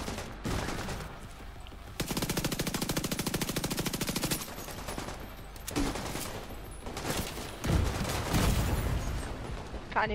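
Rapid bursts of automatic gunfire in The Division 2, a long sustained volley followed by shorter shots and explosions, with faint talk underneath.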